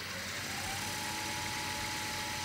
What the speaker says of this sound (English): And then I'm going to turn the lathe on.